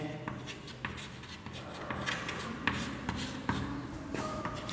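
Pen or chalk writing out a Sanskrit metre definition during a B.A. lesson, soft scratchy strokes with small taps between words, quiet and close, with no talking.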